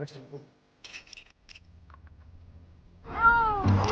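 A cat stuck up in a tree during a rescue gives one drawn-out meow near the end, after soft rustling, scraping and brief faint voices.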